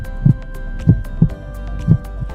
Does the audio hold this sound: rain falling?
no